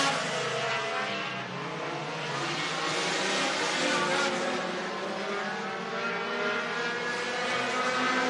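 Race cars roaring around an ice racetrack, a steady dense engine drone that stays loud and continuous throughout, with cars working the top side of the track.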